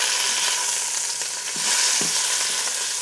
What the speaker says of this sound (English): I'm gonna do them in 2 batches and I'm just going to brown them on 2 sides